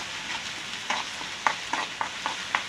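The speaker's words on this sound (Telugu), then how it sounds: "అల్లం వెల్లుల్లి పచ్చివాసన పోయేదాకా వేగాలి." Ginger-garlic paste with turmeric frying in oil for a restaurant-style chicken curry, a soft sizzle broken by a run of sharp spoon scrapes and stirring knocks at a steady, close rhythm, with no talk.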